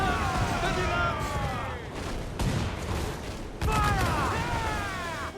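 Cannon fire and gunfire from a naval battle in Assassin's Creed 4: Black Flag come as repeated heavy booms and crackling volleys, with shouted game dialogue mixed over the top.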